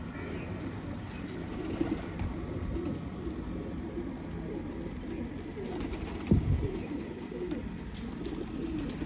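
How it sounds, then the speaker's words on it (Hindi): Rooftop pigeons cooing in a steady, low murmur with a brief louder flutter midway, set against continuous background noise. "ये है जी छत वाला कबूतर"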